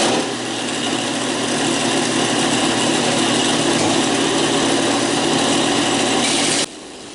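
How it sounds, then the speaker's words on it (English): A belt sander grinds steadily along the cut edge of a plastic valance spoiler from a 2020 Ford Super Duty truck, a loud continuous rasping whir that stops abruptly near the end. "just take it on the belt sander here and just get it all even"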